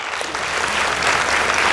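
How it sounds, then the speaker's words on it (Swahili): Applause from a studio audience on a Kenyan TV game show, a steady, loud, dense wash of clapping throughout with no gaps. "Wapi makofi?"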